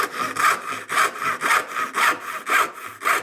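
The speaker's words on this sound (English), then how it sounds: "I'm going with a smaller dovetail saw. I'm starting right on the corner." A smaller dovetail saw cuts a wooden wedge from the corner of a workpiece while making a stool with a woven seat, giving about eight steady, rhythmic back-and-forth strokes, close and crisp with no talking.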